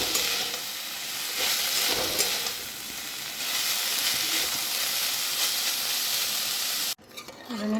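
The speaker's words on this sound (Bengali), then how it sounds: "এখানে করছি থোড় ভাজা" Banana stem (thor) frying in a pan, a steady close sizzle with faint stirring scrapes that cuts off abruptly near the end, leaving quieter kitchen noise.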